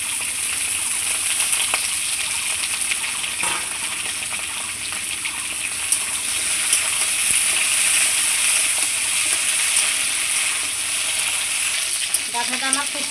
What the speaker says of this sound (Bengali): আমার তেলটা খুব সুন্দর গরম হয়ে গেছে, এইবার আমি ডাঁটাগুলো ছেড়ে দিচ্ছি।